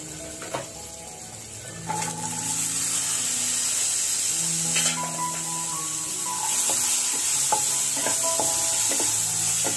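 Dried red chillies, curry leaves and asafoetida sizzle in hot oil for a tempering, a bright continuous crackling hiss with occasional stirring clinks, close and fairly loud.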